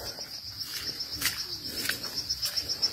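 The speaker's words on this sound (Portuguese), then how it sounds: "só o grilo já fazendo o barulhinho dele aqui" Crickets chirp in steady, thin repeated pulses across a rain-soaked landscape of the Brazilian northeastern sertão, with faint outdoor ambience beneath and a few louder bursts along the way.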